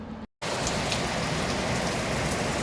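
Heavy rain pours down steadily right after a brief cut of silence, a dense, loud, unbroken hiss of drops with no voices.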